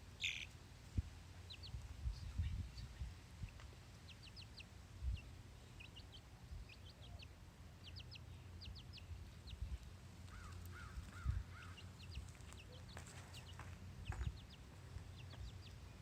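Farm chickens and chicks call faintly outdoors, with scattered short chirps and peeps over a quiet background and an occasional low thump.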